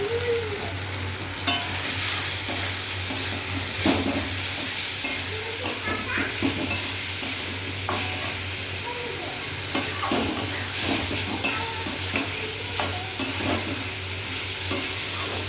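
Spice paste with turmeric and salt being stirred and fried in a pan for a fish curry, a continuous sizzle with repeated scraping stir strokes throughout.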